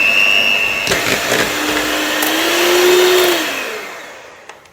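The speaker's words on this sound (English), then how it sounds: "using my beater, I'm going to mix that all together until it's smooth" A hand-held electric beater whirs loudly and steadily while mixing sugar and vanilla essence for a poppy seed cake batter. The motor pitch shifts slightly, then fades and stops, followed by a couple of light clicks.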